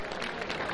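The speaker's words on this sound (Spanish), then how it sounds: "un aplauso por favor para todos los demás" Audience applause at a freestyle rap cypher event, a steady dense wash of clapping heard faintly and at a distance across a brief moment.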